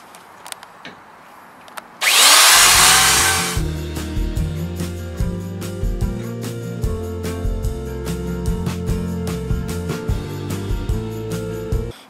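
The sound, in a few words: router rounding over wood edges for an RV headboard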